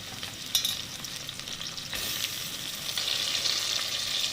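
Tomatoes frying in a pan while being stirred, giving a close, crackling sizzle with brief scraping clatters of the spoon that swell louder partway through. No one talks.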